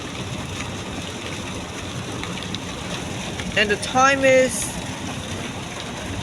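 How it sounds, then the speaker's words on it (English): Heavy rain pours down in Cebu, a loud, dense steady hiss filling the whole stretch, with a voice speaking briefly under it near the middle. "I'm in Cebu right now, and it's raining really hard."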